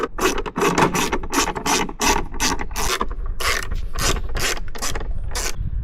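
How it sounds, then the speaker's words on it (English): A tool backs T20 screws out of the side mirror of a Ford F-150 Raptor SVT, giving a close, loud run of rhythmic ratcheting clicks repeated in quick strokes. "I'm gonna remove these 4 screws."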